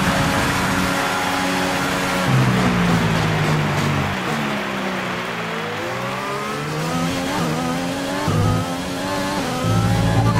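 F1 car engine in an F1 video game on Xbox Series X, a loud high-pitched scream climbing through rapid upshifts and dropping on downshifts, with repeated acceleration and braking cycles and faint tire noise.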